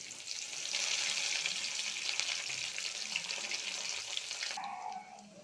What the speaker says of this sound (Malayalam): കടുക് പൊട്ടി വന്നപ്പോൾ ചതച്ച് വെച്ചിരിക്കുന്ന ഈ വെളുത്തുള്ളി, ഇഞ്ചി, കറിവേപ്പില ഇത്രയും സാധനങ്ങൾ ഇട്ട് കൊടുക്കാം